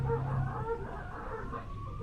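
Racing dogs whine and whimper in the starting box before a grade B sprint race at Hamilton, the thin, wavering cries faint under a steady noisy background.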